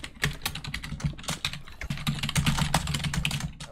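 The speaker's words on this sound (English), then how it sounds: "I hear typing." Rapid computer keyboard typing heard alone, with dense irregular clicks and clacks at close range over a few seconds.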